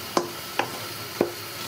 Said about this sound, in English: Boiling. Just need to stir it a little bit.